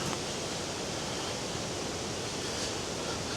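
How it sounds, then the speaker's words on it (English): A waterfall in limestone karst country rushes in a steady, dense roar of water that stays constant throughout, with no other sounds over it. "I can hear water. It sounds a lot louder up here than it did back there."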